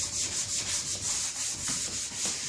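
A sponge sanding the curved wooden parts of a 42-inch drop leaf table being refinished makes close, steady back-and-forth rubbing strokes, roughly four per second, with no voices.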